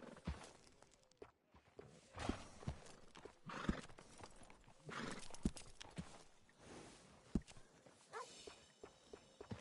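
Horse hooves clip-clop at a stable in an Old West bounty-hunter game, with a whinny mixed in among scattered footsteps and clatter, fairly close and steady throughout.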